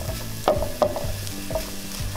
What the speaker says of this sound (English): Then we're gonna saute these for a couple minutes